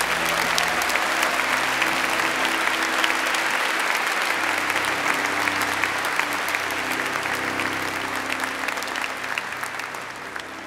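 Large audience at an engineering faculty graduation ceremony applauds the graduates, a loud, dense and continuous roar of clapping that stays full throughout, with faint tonal background sound beneath it.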